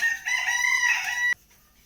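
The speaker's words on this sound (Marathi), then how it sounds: "मागून तुम्हाला शेळ्यांचा किंवा कोंबड्यांचा असाच आवाज येत राहणार आहे" A rooster crows once, loud and close, in a village yard where chickens are kept; the crow stops abruptly, leaving faint background noise.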